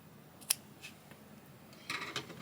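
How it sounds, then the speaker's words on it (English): Scissors snip a crochet yarn tail on a small amigurumi pea pod, giving a few faint, quick, close cuts. The cuts are spaced apart in a quiet room. "you can snip the tail"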